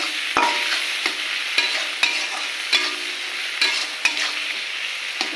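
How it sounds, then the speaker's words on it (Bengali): Tomatoes and onion fry with salt in a hot pan for a prawn oil-chili curry, giving a steady bright sizzle. Repeated spoon-stirring scrapes break through it at a regular pace, and no one speaks. "টমেটোটা ভালো করে ভেজে নেবো তার সঙ্গে দিয়ে দেবো নুন"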